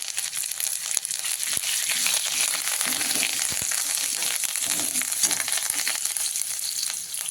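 Curry leaves drop into hot oil already seasoned with asafoetida for a yogurt kadhi, giving a loud, steady, crackling sizzle with light stirring noises close by.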